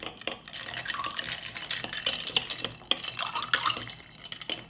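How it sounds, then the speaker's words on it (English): A spoon scrapes and clinks around the inside of a pot in quick, uneven strokes, close and moderately loud with no talking. "Give it a little stir."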